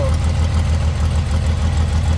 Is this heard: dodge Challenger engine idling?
yes